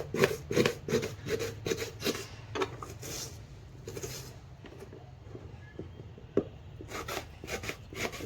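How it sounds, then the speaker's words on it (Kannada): A knife finely chopping onion on a board for Hubballi-Dharwad style mirchi bajji, quick bursts of crisp taps in uneven clusters with short pauses between them, close and fairly soft. "ಈರುಳ್ಳಿ ಕಟ್ ಇದ್ದೀನಿ ಸಣ್ಣದಾಗಿ ಕಟ್ ಮಾಡ್ಕೋಬೇಕು"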